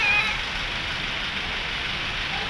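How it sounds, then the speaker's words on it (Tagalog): Rain falls steadily outdoors during travel, a constant even hiss of drops on surfaces with no clear voices. "Umuulan, shocks."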